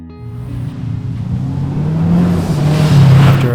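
A rally car slides sideways on a gravel road, its engine droning and rising under load with a rough wash of gravel and road noise growing louder toward the end.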